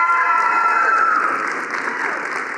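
Enthusiastic audience cheering and applause at a university health science center groundbreaking ceremony, dense and loud throughout with whoops over steady clapping.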